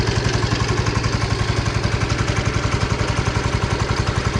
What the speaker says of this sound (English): can't throttle it up any more than idle because of the throttle cable that isn't, you know, it's not secured properly